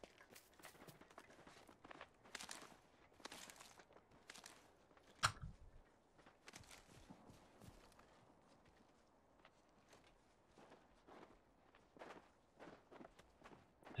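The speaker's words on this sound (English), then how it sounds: "I hear footsteps up here, I think." Player footsteps in the video game Apex Legends, a run of soft irregular steps across the clip with one sharp louder impact near the middle, no talking over it.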